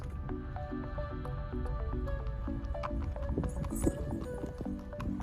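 Horses clip-clop through the busy market at Mahabaleshwar on a crowded day, steady hoof knocks repeating under constant music and crowd noise.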